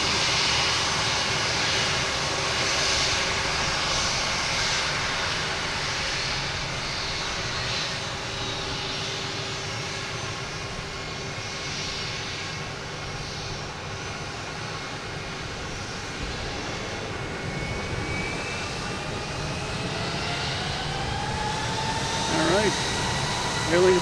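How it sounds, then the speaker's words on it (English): Spirit Airlines jet aircraft at Boston Logan Airport, its engines producing a steady, loud broadband roar that holds for the whole stretch, with faint talk underneath. "we got a Spirit Airlines here right in front of us making all kinds of racket"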